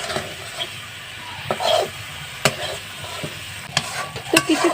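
Spice paste is stirred and fried in very little oil for a mustard-based vola fish curry, with a low sizzle broken by sharp spatula scrapes and knocks against the pan.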